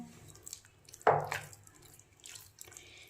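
Water splashes into a bowl of poha and semolina mixture in a home kitchen, a short pour with a brief burst and a few faint drips.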